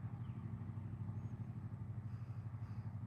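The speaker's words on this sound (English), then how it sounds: "I think these engine sounds are sync." A steady low engine drone with a rhythmic pulsing throb, fairly constant in level throughout, like a motorcycle or car idling nearby.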